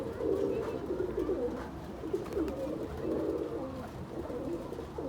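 A Lakha pigeon coos in repeated soft rolling phrases, close and fairly clear, with faint background noise and no talking.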